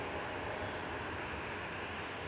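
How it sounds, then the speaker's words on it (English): Airbus A380 airliners arriving and departing at snowy Manchester Airport, a steady, distant broadband jet roar that holds evenly throughout without breaks. "we've got an A380 coming in and an A380 leaving as well"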